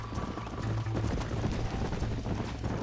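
A horse gallops in the video game Red Dead Redemption, its hooves pounding in a steady, rapid rhythm over a constant low rumble of movement and wind.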